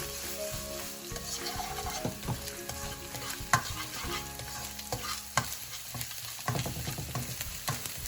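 Ginger, garlic and green chilies fry in hot oil in a pan for a prawn chilli base, a steady close sizzle broken by sharp spoon scrapes and clacks against the metal, with no voices.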